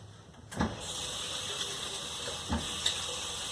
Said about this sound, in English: I'm going to wash my hands and I'll be right back.